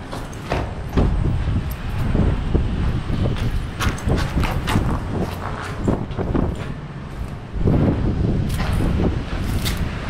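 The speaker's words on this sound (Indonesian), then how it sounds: "Anginnya kencang banget di sini sumpah." Strong wind gusts roar steadily across an outdoor spot at night, loud and buffeting, with surges near the start and again toward the end.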